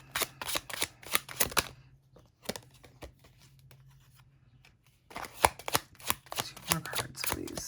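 Tarot cards being shuffled close up, quick crisp riffling bursts at the start and the end with a quieter stretch of soft card handling between them.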